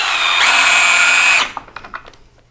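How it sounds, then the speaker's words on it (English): A power drill drives screws into an electrical box being fixed to the structure during a severed-wire repair, one loud steady whirring run of about a second, then a few faint clicks and handling sounds. "Now we'll just screw that box to the structure."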